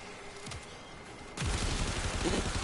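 Pistols fire in the sci-fi shooter video game Warframe, a dense rapid crackle of shots that grows louder and busier partway through, with no voices.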